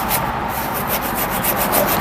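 KMX200 tool stripping proper applied paint off a plastic surface, a steady abrasive rubbing and scraping hiss with faint rhythmic pulses, close up and heard without talk.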